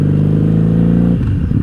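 A 1997 Honda Magna 750 VF750C motorcycle engine pulls in first gear during a ride, a loud, close, throbbing low drone that shifts and wavers near the end, with no talk.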